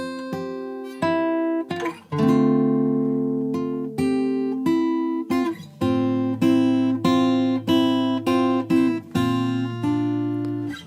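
Fingerpicked acoustic guitar in standard tuning playing the intro of a song, clear plucked chord shapes and single notes ringing in a gentle, measured rhythm, close and alone with no talking.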